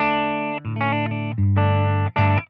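Dry electric guitar through a Line 6 HX Stomp with a Vintage-style amp model and 1x12 Deluxe cabinet: a few sustained clean chords strummed in succession, clear and close with no added effects.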